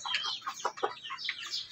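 Shamo chickens cluck softly in a breeding pen, a quick run of close, low-level clucks and chatter with short bursts clustered together and no voices.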